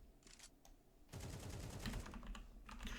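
Weapon reload in the shooter game CS2: a rapid run of mechanical clicks and clacks, close and moderately loud, following a quieter stretch, with no talking.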